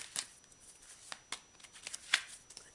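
A tarot card deck is riffled and snapped in a few quick bursts, soft and close, with brief pauses between the shuffles.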